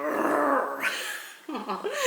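A cartoon dog growls in anger, a rough, throaty snarl rising and falling across the whole stretch, with a brief break before it resumes with sharper, snapping edges.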